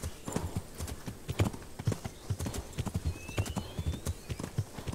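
A horse gallops in the video game Kingdom Come: Deliverance, a fast, rhythmic clip-clop of hooves, loud and close, with a brief whinny-like sound partway through.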